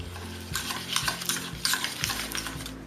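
Room-temperature butter beaten with a hand whisk in a mixing bowl, repeated rhythmic scraping and soft slapping strokes, fairly close and steady, with no voices.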